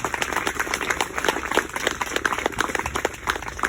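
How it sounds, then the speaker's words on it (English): Audience at a graduation ceremony applauding, a dense steady patter of many hands clapping at moderate distance with no gaps. "students, continue that clapping for your parents"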